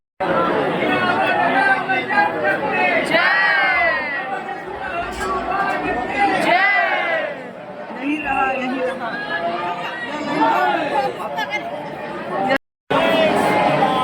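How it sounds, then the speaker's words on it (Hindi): Dense crowd chatter fills Hanumangarhi temple in Ayodhya, with many overlapping voices and calls close by, steady and loud throughout apart from a brief dropout near the end. "हनुमानगढ़ी में इतना भीड़ तो बहुत ही आम सी बात है"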